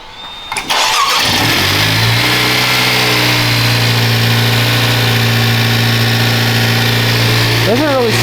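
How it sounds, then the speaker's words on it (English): A 2024 Honda Civic fitted with a PRL high volume intake and titanium inlet pipe cranks briefly, fires up and settles into a steady, close, loud idle with a small rev near the end. "But now I think it's time to start it."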